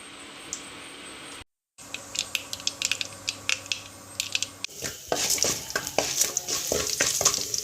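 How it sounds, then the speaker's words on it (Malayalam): Mustard seeds and urad dal fry in hot coconut oil for masala dosa, a steady close sizzle dotted with sharp popping crackles that thicken and grow louder toward the end after a brief silent gap. "വെളിച്ചെണ്ണ ചൂടായിട്ടുണ്ട് അതിലേക്ക് ഒരു ടേബിൾ സ്പൂൺ കടുക് ഇട്ട് കൊടുക്കാമേ ഇതിലേക്ക് രണ്ട് ടേബിൾ സ്പൂൺ ഉഴുന്നുകൂടി നമുക്ക് ഇട്ട് കൊടുക്കാം"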